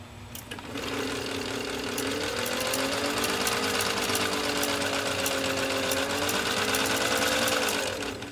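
A 1921 Domestic Benjamin Franklin Model 1790 sewing machine stitching through ten layers of heavy denim, running with a fast, steady mechanical clatter and a whirring tone that wavers slightly in pitch, heard up close without talk.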